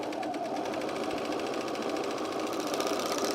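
A sewing machine stitches cargo pants fabric near a curve with the presser foot down, a steady close mechanical whir that runs without pause for the whole stretch.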